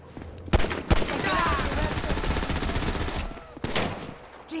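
A Grand Theft Auto V shootout on a scaffold: loud, close gunfire in sharp bursts, with a dense rattle between two heavy shots near the start and another pair near the end.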